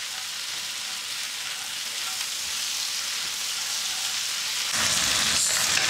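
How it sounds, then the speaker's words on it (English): Beef and rice noodles sizzle steadily in a hot wok, a continuous close crackle of frying that swells a little louder near the end as the food is stirred. "Let's fry like 1-2 minutes before we add the sauce in."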